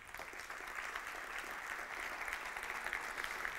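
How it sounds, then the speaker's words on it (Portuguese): A church congregation applauds steadily throughout, a dense, even wash of many hands clapping at moderate distance with no voices rising above it. "Aplauda o Senhor então."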